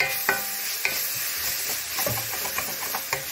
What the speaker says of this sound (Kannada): ಹಾಕೊಂಡು ಚೆನ್ನಾಗಿ ಫ್ರೈ ಮಾಡ್ಕೊಳ್ಳೋಣ